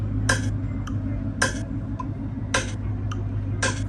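Four crisp, evenly spaced sampled snare hits, sampled from a pad in Loopy Pro, ring out over a low steady hum, about one per second.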